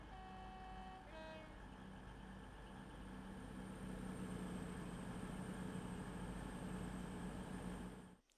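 Class 222 Meridian diesel multiple unit in Train Sim Classic, a steady engine drone with a rising tone as the train pulls away, a brief tonal chime early on, running continuously and fairly loud until it cuts off at the end.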